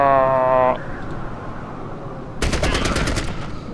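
Gunfire in the Fallout Tactics video game: a burst of rapid automatic shots rattles out near the end, after a brief tonal game sound and a quieter pause.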